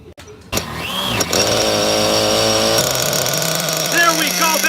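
The 23cc Zenoah gas engine of a rare 1993 Traxxas 1/6 scale monster buggy fires up and runs close by, a loud buzzing two-stroke drone whose pitch rises and falls with throttle, with a voice over it.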